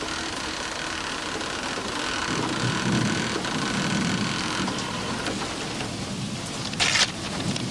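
Heavy rain from an arriving typhoon pours down steadily, close and dense, with low rolling thunder swelling beneath it in places.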